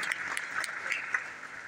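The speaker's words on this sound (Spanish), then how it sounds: "También un fuerte aplauso por ellos." Brief applause from the audience at a Eucharistic congress, a thin scatter of clapping heard at moderate distance.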